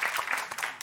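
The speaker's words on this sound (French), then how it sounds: "bravo Karim, je peux applaudir" A short flurry of hand claps in a French television talk-show studio during a discussion of the Grand débat national, quick and close, lasting under a second.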